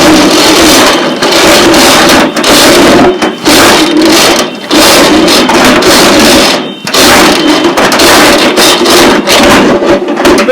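A Ridgid K5208 sectional drain cleaning machine runs for sewer clearing, giving a loud, steady mechanical whir with a few brief dropouts.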